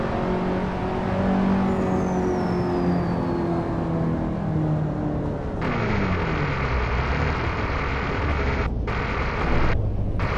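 A racing car engine in Assetto Corsa revs and drones steadily at close range, pitch rising and falling through shifts, with a couple of brief sharp dropouts near the end and no talking.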